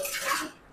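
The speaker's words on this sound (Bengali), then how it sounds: "নাড়বো।" Chicken being stirred in a pan with Kashmiri chili powder and cumin, a short close scrape and rustle of a spoon against metal that fades out quickly, with no talking.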